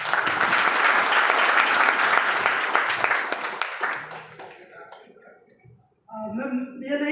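Loud audience applause at a corporate talk fills the first four seconds, then thins and fades, with a speaker's voice returning near the end.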